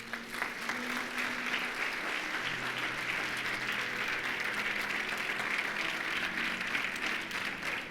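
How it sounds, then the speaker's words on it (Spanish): A church congregation applauds during a sermon, steady crowd clapping over faint sustained organ or keyboard tones in the background. "Dale un aplauso al Señor."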